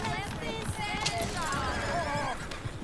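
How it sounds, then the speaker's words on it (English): Horses whinnying over continuous clattering hooves, busy and close, in the video game Red Dead Redemption 2. "Oh, shit, the horses! Damn horses!"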